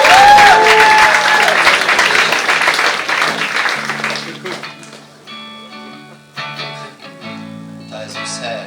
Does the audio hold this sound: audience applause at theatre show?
yes